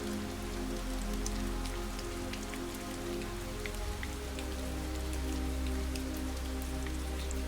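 Steady rain shower pattering on surfaces, a continuous dense wash of drops with scattered sharper hits, even and enveloping throughout with no voices.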